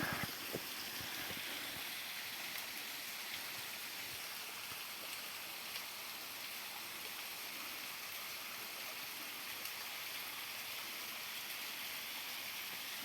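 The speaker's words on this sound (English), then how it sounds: "this is the longest waterfall in the river of my village" A long waterfall on a village river roars in a continuous, even rush of water, steady and fairly distant-sounding, with no talking.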